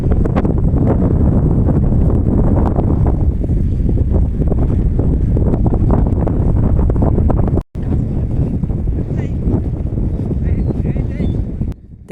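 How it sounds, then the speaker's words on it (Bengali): Strong wind blowing near the seashore at Nazirartek, Cox's Bazar, roaring steadily and buffeting the microphone with a loud, rumbling rush that briefly drops out midway before resuming. "আমরা যতই তীরের দিকে অগ্রসর হচ্ছি, ততই বাতাসের প্রবল বেগ অনুভব করছি। চারদিকে শুধু বাতাস আর বাতাস।"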